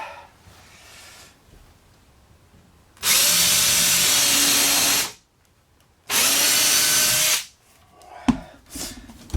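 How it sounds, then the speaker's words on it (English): A power drill cuts a hole through wood while an outfeed and assembly table is being built. Two loud, steady runs sound up close, the second shorter, with a quiet pause between and light handling noise afterward. "all I'm doing here is drilling a hole through."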